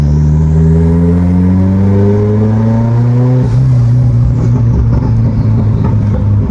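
A turbocharged 192 kW Opel Corsa accelerates hard from inside the cabin, loud rising engine tone climbing through the revs, a sharp gear change midway, then pulling hard again.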